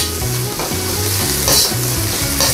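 Red bell pepper frying and being stirred in a hot pan, with steady loud sizzling and repeated scraping strokes of a utensil against the pan, no voices.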